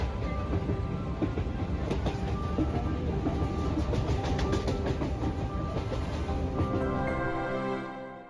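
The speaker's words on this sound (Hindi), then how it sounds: "तो देख सकते हैं ट्रेन भी आ गई यहाँ पे।" A Diamond train rolls past close by, a steady loud rumble with rhythmic clickety-clack of wheels over rail joints throughout, fading slightly at the end; no talking.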